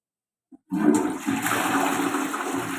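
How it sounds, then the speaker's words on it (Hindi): A ceramic toilet flush tank being flushed after servicing: a small click, then a loud rush of water that runs steadily and close by for a couple of seconds. "तो अब हम इसको एक बार फ्लश करने की कोशिश करते हैं, देखते हैं पानी आता है कि नहीं आता"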